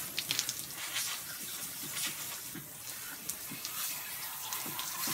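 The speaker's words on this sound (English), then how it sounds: "Rinse the cavity out." Running water rinses the cavity of a freshly processed rabbit, a steady close splashing gush from a tap with small irregular spatters as the carcass is turned under the stream.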